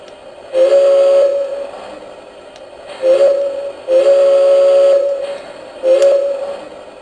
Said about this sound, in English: the train is ready to roll out